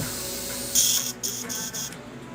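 An airbrush sprays small potfuls of water through to clear out acrylic paint or primer and avoid clogs. It makes a steady hiss of air and spray in a few short, close bursts.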